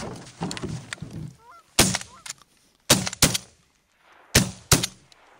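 Several sharp shotgun blasts from goose hunting crack outdoors, alone or in quick pairs, each trailing off into a rolling echo, with faint goose honks between them.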